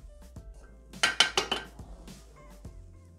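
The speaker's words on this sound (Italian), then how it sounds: "Riuniamo sul fondo del boccale con la spatola." A spatula scraping down the inside of a Thermomix mixing bowl while eggplant is being cooked: a quick run of four or five sharp metallic scrapes and clinks, close and fairly quiet, with no talking.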